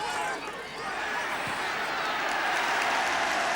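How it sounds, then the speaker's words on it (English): A football crowd applauding a strong, fair tackle, with dense, steady clapping rising slightly and sustained across the stadium while a commentator speaks over it. "Gilson quite rightly getting a round of applause for taming McDougall in that particular instance"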